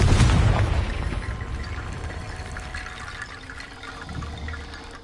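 Confringo explosive spell blast in Hogwarts Legacy: a loud, close boom at the start that decays into a long rumbling, rushing tail, with nobody talking.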